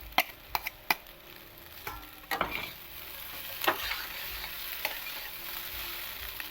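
Chowmein stir-fried with fried egg and onions in a hot pan: a steady sizzle with sharp scraping clicks from the spatula at irregular intervals, moderately close and without talk.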